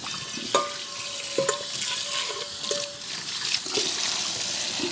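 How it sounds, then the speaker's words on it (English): Soaked Great Northern beans drained and rinsed: steady running water and splashing with beans shifting and clattering in a colander, loud and close, with a few sharper knocks. "So I'm going to now drain them and rinse them."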